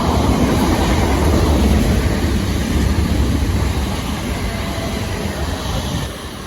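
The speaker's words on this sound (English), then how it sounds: "Next train to pass by will be a pair of SWR 455s." A pair of SWR class 455 electric trains passes close by, a loud steady rumble of wheels and rail noise that fades slightly toward the end.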